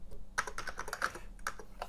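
Rapid keystrokes on an Amiga 3000 computer keyboard, close and clear, with an irregular rhythm of clicks running throughout and no voices.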